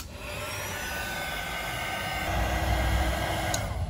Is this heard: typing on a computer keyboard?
no